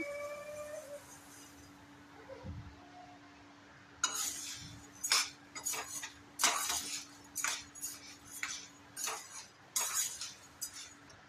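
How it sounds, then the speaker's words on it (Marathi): Jowar (sorghum) grains being dry-roasted and stirred in a pan, giving repeated scraping, rattling clinks in an uneven rhythm, close and moderately loud, after a few quiet seconds. "आता ज्वारी भाजून घेते."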